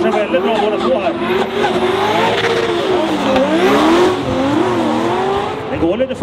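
Race cars lap the Gatebil track in Sweden on a partly wet, slippery stretch, engines howling and rising and falling in pitch as they accelerate and brake, with tire squeal and commentators talking over the racing.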